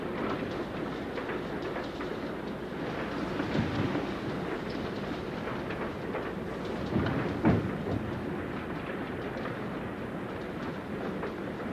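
A moving train rumbles steadily and continuously throughout, with a dense rolling roar and a brief louder clunk partway through.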